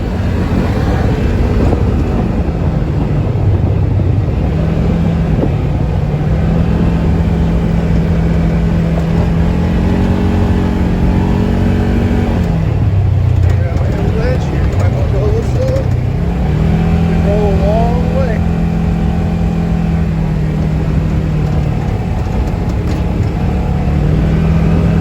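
An off-road vehicle climbing toward Cement Ridge in South Dakota produces a loud, continuous engine drone that rises and falls as it works uphill, with wind buffeting the microphone and a voice speaking over it.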